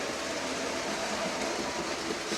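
Steady rolling rumble of an OO gauge Wrenn Coronation Class model train with lighted coaches running on its track, a continuous close whirring hiss at even loudness with no talk.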